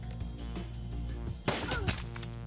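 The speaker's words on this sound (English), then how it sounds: "The gunfire dies down and the smoke clears." Gunfire in the Shadowrun: Dragonfall video game sounds as a dense, noisy combat mix with a sharp burst of shots and impacts around the middle, over a steady droning background.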